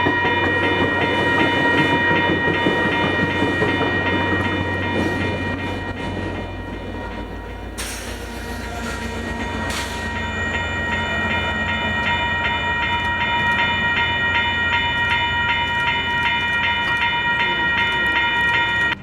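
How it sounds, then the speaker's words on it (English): A FrontRunner commuter train doubleheader, running southbound with a cab car leading, passes a railroad crossing: loud steady rolling and wheel clatter close by, with crossing bells ringing throughout and a brief horn-like burst midway. "I would see the doubleheader passing the Gentile Railroad crossing, this heading southbound to Provo with Cab Car 104 leading."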